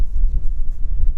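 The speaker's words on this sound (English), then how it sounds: "it's still windy" Wind buffets the microphone on the exposed clifftop at Torr Head on the Causeway Coast around sunrise, a low, continuous rumbling roar that swells and dips without pause.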